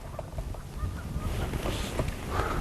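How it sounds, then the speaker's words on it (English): Geese honk and squawk repeatedly at a distance around a boat on cold water while fishing, the calls scattered over a steady, noisy outdoor background. "Y'all hear my geese? Driving me nuts. Been squawking the whole time we've been here."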